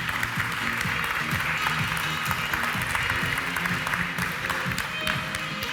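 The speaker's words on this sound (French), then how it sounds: "j'accueille Bénédicte Ibert de chez Google, qu'on peut applaudir, s'il vous plaît." Audience in a conference room applauding to welcome a speaker from Google, with dense, steady clapping from many hands that continues evenly throughout and stays fairly close and loud.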